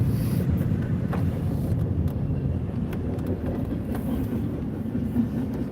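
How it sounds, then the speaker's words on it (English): Long freight train passing a road crossing, a steady rumbling roll with faint intermittent rattles and clanks, heard from inside a waiting vehicle, continuous and moderately loud with no talking. "Got stuck behind the train. This train is usually a really long train too"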